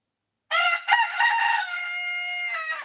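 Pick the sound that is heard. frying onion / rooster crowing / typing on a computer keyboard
rooster crowing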